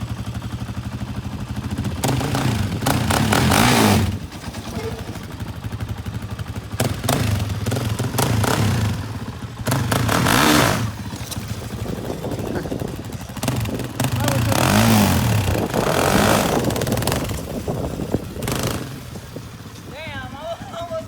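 A new ATV has its clutch popped, the engine revving and lurching in repeated bursts with clattering, close by and loud, while people talk over it.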